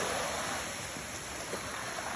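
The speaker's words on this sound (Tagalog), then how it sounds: "Ang lakas ng alon." Strong waves surge at a fishing port on a windy monsoon day, a steady broadband wash of surf and water that stays loud and even throughout with no talk.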